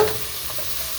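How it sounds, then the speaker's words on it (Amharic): Onions being fried in a pan, a steady close sizzle with a stirring scrape, brief and without speech. "እዚህ ጋር ሽንኩርቴን እያበሰልኩ ነው"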